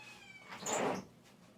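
A cat meows once, close by and fairly faint, a short rising-and-falling call in a quiet workshop.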